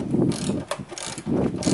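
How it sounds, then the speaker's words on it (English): Socket wrench ratcheting a bolt snug while an inverter is installed, a quick run of close mechanical clicks with a short pause in the middle. "make sure you put the wrench on the bottom here"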